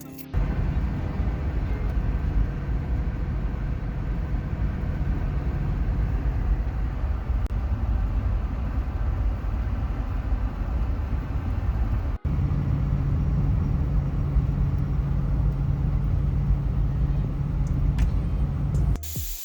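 A small truck drives along a road, heard as a steady, loud low rumble of engine and road noise with little change, likely from inside the cab.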